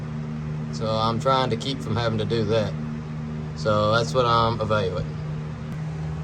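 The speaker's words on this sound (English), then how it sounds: "all that noise you're hearing is this fan that I've got to have" A steady whirring electric fan hum runs continuously in a workshop beneath someone talking close by.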